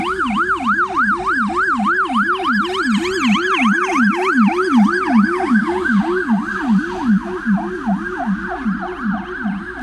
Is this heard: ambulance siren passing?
yes